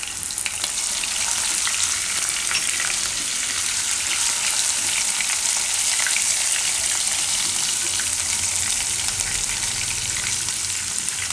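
Cumin seeds and green chillies fry in hot oil for soya paneer bhurji, a loud dense crackling sizzle that holds steady and close throughout, with no speech.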